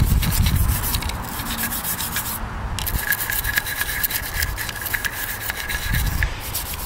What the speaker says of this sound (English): whatever you can reach with this brush, just give it a good scrub